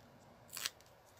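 A single quick snip of scissors trimming a piece of card for a foiled-edge holiday card, faint and close, with quiet room tone before and after.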